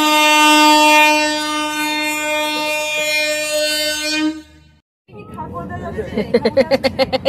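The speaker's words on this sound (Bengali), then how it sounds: "আমাদের ট্রেন ঢুকছে পুরুলিয়া এক্সপ্রেস।" The Purulia Express train arriving at a station, with a long loud horn blast, then, after a brief pause, rhythmic wheel clatter as it passes, with voices nearby.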